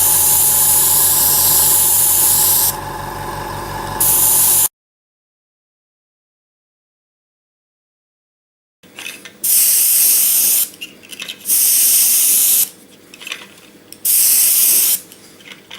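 An airbrush lays a light, pale wood-coloured coat over grey on a model, giving loud close bursts of hissing spray: one long blast, several seconds of silence, then several shorter bursts.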